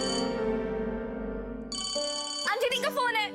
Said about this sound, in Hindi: अंजलि का फोन है।